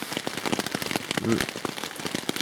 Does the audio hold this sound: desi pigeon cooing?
no